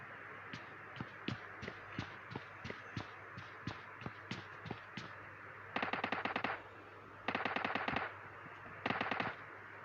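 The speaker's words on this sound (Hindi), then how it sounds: "अब मुझे मेरे पीछे से भी गोली चलने के साउंड आ रहे थे" PUBG gunfire: a string of single shots at a steady pace, then three rapid automatic bursts, moderately loud with no talking.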